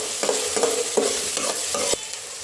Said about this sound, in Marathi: 1-2 मिनटं कांदा परतून घ्यायचा.